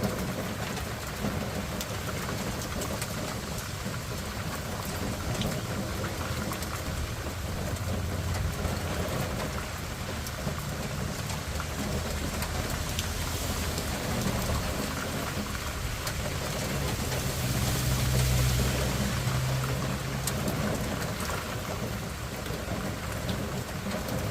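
Heavy rain falls steadily on a fishing trip on the Lower Laguna Madre, a dense, unbroken hiss close by that swells slightly for a few seconds near the end, with no talking.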